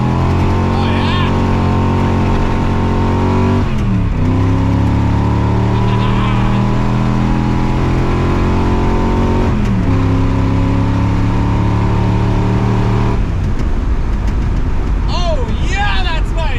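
A truck with a 400ci small-block Chevy and GM mini spool accelerates hard on a highway, its loud engine note rising through gears with distinct drops at each shift, close and continuous.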